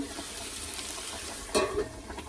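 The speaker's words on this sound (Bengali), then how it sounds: "এদিকে হচ্ছে ঢেঁড়স ভাজা" Sliced okra (ladies' finger) fries in a pan with a soft, even sizzle heard at a distance in a home kitchen, with one brief clatter partway through.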